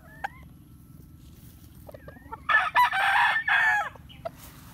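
A Yellow Legged Hatch rooster crows once, loud and close, a long drawn-out call over steady low background hum, with faint clucking before it.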